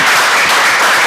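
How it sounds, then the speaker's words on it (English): Audience applause at an African InsurTech business conference, a steady dense wash of clapping filling the short moment without letup. "applause"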